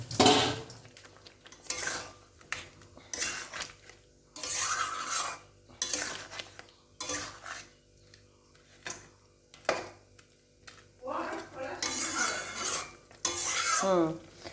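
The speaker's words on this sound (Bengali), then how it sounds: "দিয়ে ভাজা চিংড়ি মাছগুলো দিয়ে দেবো মশলার মধ্যে।" Fried prawns stirred into a spice masala in a cooking pan for a restaurant-style prawn malai curry, giving repeated scraping and clinking of a spoon against metal in short bursts, fairly close, with quiet gaps between strokes.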